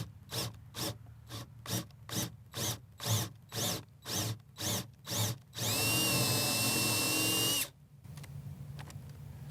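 A power drill whines in a steady series of short bursts, about a dozen quick pulses, then one long continuous high-pitched run before stopping, drilling through a garden bed liner.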